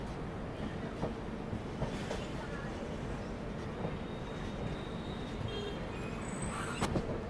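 Bhagat Ki Kothi Express pulling out of Ujjain Junction, heard from inside a First AC coach: a continuous low rolling rumble with occasional faint clicks and squeals, with no talking.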